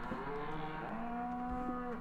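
Cows in the Farming Simulator 2013 video game give a drawn-out, loud moo lasting about two seconds, with a steady tone that dips partway through and carries alone without talk.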